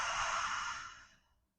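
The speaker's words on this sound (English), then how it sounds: "starting to take a deep breath in through the nose, exhale out of the mouth" During a vinyasa yoga session, one long, close breath is let out through the mouth like a soft sigh and fades away into silence.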